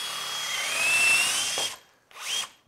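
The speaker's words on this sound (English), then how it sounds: "Driving that big hole into that maple is not the easiest thing in the world." A power drill bores a large hole into maple for a bath vanity, with a loud straining whir that falls briefly silent, then a short second burst of drilling.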